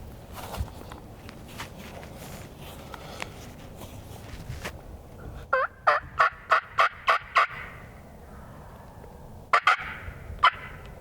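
A wild turkey gobbles in quick rattling bursts from a distance on Tennessee public land, with a run of repeated calls and a later cluster, while footsteps crunch through brush nearby.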